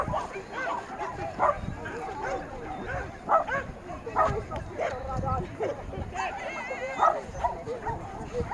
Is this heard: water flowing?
no